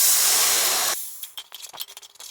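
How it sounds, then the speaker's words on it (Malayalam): Half a cup of vinegar hits hot fish pickle masala in a pan for Kerala-style fish pickle, a loud steady hiss of sizzling that cuts off abruptly, then gives way to scattered clicks and faint stirring. "നമുക്കിതിലേക്ക് ഒരു 1/2 കപ്പ് വിനാഗിരി ഒഴിച്ചു കൊടുക്കാം"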